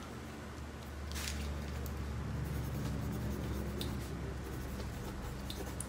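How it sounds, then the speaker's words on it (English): A pen scratches steadily across paper at close range, jotting down paint colour names in a continuous quiet scribble against light room hiss. "I'm gonna write that down so that I remember."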